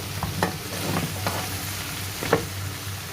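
Carrots and celery stir-fry in a pan with steady frying noise and a few scraping, clattering stirs, close and fairly loud. They are being cooked with oxtail for Chinese braised oxtail.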